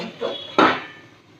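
A lid is set onto a cooking pan, a single close, sharp clatter preceded by a faint light knock, then a short ringing decay.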